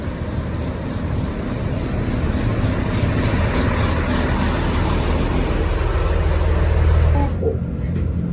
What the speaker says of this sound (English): I'm going to be getting the GWR train to my first stop